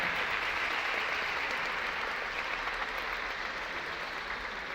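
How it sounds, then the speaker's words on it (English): Applause from a seated dance-show audience in Malta greeting the President, a steady dense wash of clapping that holds at an even level throughout. "So please give a big round of applause for the President."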